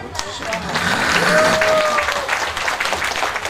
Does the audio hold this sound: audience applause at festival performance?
yes